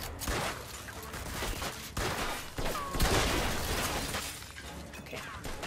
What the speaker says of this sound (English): Cause I'm shooting your ass.